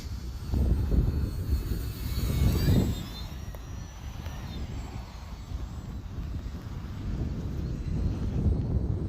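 An Arrows RC Bearcat model airplane running on a 4S battery flies in the wind, its electric motor whine rising and fading as it passes, mixed with wind buffeting and outdoor background noise.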